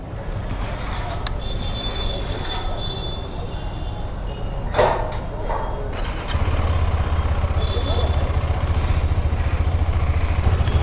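KTM Adventure 390 motorcycle engine pulling away as a ride begins, a steady low rumble with wind and road noise that swells louder partway through, heard up close from the rider's position.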